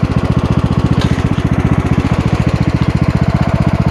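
An old lawnmower engine, converted into a seed and fertilizer spreader, runs at low RPM with a loud, close, rapid thumping putter that stays steady throughout, with no talking.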